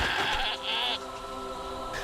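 A goat in the video game Wartile lets out a single drawn-out bleat, clear and close, over a soft backdrop of game music.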